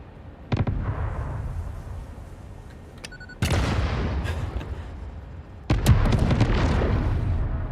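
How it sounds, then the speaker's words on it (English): Several loud, close explosions from detonated pulse obelisks in the game Satisfactory, coming in sharp bursts a few seconds apart, each trailing into a rumbling roar. "Yeah, I detonated your pulse obelisks."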